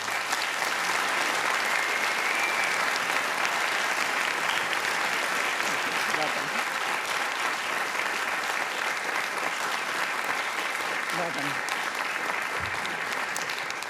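Steady, dense applause from a large audience at the OIST 2024 graduation ceremony carries on unbroken and evenly loud for about fourteen seconds, with no talking over it.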